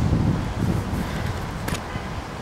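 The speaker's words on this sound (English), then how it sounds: "The heavy wind." Heavy wind buffets the microphone on an open golf course, a loud, rough rush with gusty swells and a brief rustling burst near the end, no voices.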